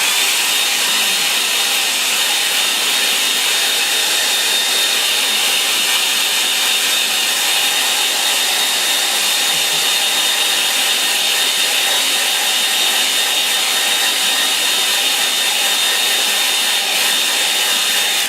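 A hair dryer blows steadily on a wet-in-wet watercolour painting of a misty lake, a loud, continuous whooshing whine with no pauses, close to the mic and alone.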